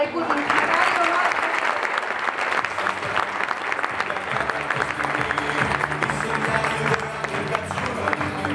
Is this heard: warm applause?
yes